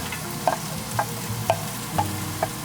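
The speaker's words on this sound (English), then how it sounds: "The butter's sizzling, so we're gonna take the vegetables that we cut up, put those in there." Vegetables sizzle in butter in a hot pan under a low hum, with a spoon tapping or stirring about every half second.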